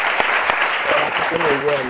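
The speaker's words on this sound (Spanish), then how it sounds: "Y un aplauso para" Audience applause at the close of a Spanish-language talk show with guest Mélani Olivares, a dense wash of clapping that carries on while a voice speaks briefly over it.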